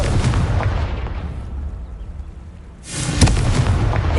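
A Confringo explosive spell in Hogwarts Legacy: a loud burst fading into a low rumble, then a second sharp blast with crackling impacts near the end.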